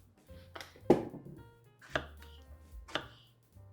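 A kitchen knife chops through a Japanese eggplant to remove the stem, giving about four crisp, close thuds against a cutting board at roughly one-second intervals, with no talking.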